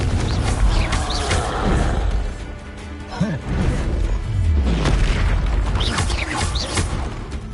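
Spell blasts exploding in a Hogwarts Legacy battle, repeated loud booms and crashes over a dense, noisy combat background, near and forceful, with a voice calling out amid the action.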